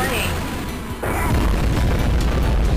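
Nuclear bomb blast from the rocket launcher in the Shadow Warrior video game, a single loud, deep boom that erupts suddenly and rolls on as a heavy rumble.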